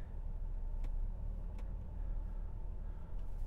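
A 2022 Ford Ranger on Falken Wildpeak RT rugged terrain tires creeps slowly forward off-road, giving a steady low engine and drivetrain rumble with a couple of faint ticks.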